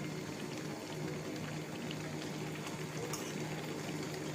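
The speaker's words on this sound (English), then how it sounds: "the pasta is now coming to a boil" Pasta coming to a boil in a pot, a soft, steady bubbling and rolling hiss that stays even and fairly quiet throughout, with no talk over it.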